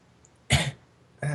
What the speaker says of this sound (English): A short burst of coughing stopped Twilight from talking.